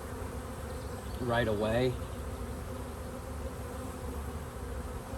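A honeybee swarm buzzes faintly around a swarm trap, a low steady drone with a short, louder wavering buzz as a bee passes close. Someone speaks briefly over it.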